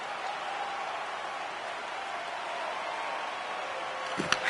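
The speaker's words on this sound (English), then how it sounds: "the home team giving the fans something to cheer and get loud about. Listen to them." A home crowd roars at an NHL 26 ice hockey video game arena. The noise is a steady, broad, sustained roar, and a few sharp clicks come near the end.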